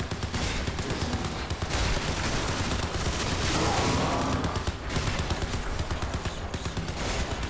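Dense, continuous gunfire from the Crysis 3 video game roars throughout, heavy automatic bursts with booming low end and no quiet gaps, a voice briefly under the barrage.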